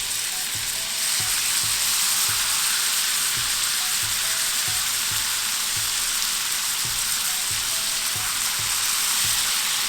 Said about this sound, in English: Now I'm going to cook these prawns for just 2 minutes on each side.